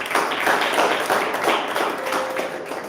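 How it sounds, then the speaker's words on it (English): An audience at a Toastmasters club meeting in Jaipur claps, a steady wash of many hands applauding for a few seconds, fairly close and even in loudness. "give a big round of applause for yourself first"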